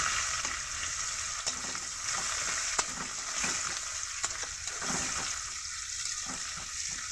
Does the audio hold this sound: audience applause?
no